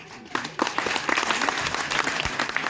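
Audience clapping at a live Hindi poetry recitation event, a dense, steady burst of applause from a full crowd lasting about three seconds, loud and close.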